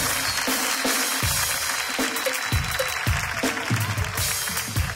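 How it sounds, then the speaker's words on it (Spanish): A live audience claps and cheers in a sustained, dense burst of applause with loud crowd noise throughout and a few sharper claps standing out. "Y más fuerte el aplauso, más fuerte"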